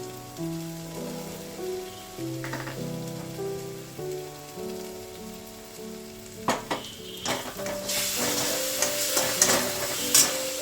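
Mustard paste hits hot masala in a pan, with a soft background sizzle joined by tonal music, then bursts of louder spattering and crackling take over in the second half as the paste fries.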